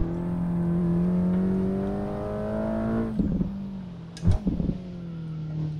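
A race car engine in F1 22 drones steadily at high revs, then drops abruptly as the car brakes, followed by a couple of short bursts of downshifting and engine blips.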